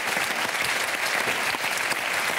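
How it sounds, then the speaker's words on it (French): A French TV show studio audience claps steadily and warmly for an actor promoting a theatre play, a dense, even round of applause with no talk over it. "Laurent Sirad, on l'applaudit parce qu'il faut aller le voir au théâtre."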